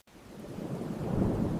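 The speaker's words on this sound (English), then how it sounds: "Yes, it is raining quite heavily." Heavy rain pours outside as a dense, steady broadband hiss with a low rumble, building slightly and continuing alone without voices.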